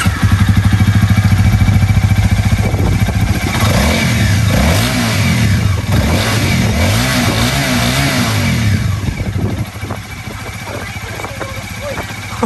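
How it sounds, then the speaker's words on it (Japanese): A Kawasaki ZX-25R motorcycle engine revs repeatedly, rising and falling in pitch over a steady idle, close and loud, then settles back to idling with people talking nearby. "バイクの音。"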